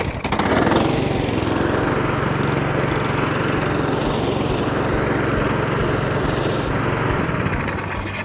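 A Cobra AirMow51B hover lawn mower starts and runs, its loud steady engine drone and whirring blade close by and continuous with no talk.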